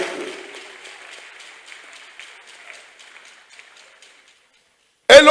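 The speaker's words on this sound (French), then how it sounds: "Acclame encore Jésus" A church congregation claps and cheers in acclaim of Jesus during a sermon, a broad sustained applause that slowly fades over several seconds before a loud voice bursts in at the end.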